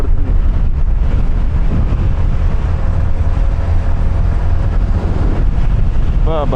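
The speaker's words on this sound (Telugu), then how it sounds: "గాలి సాహ కొడుతుంది" Strong wind buffets the microphone during a motorcycle ride up to Ananthagiri Hills, a loud, constant low roar and rumble throughout, with a brief voice near the end.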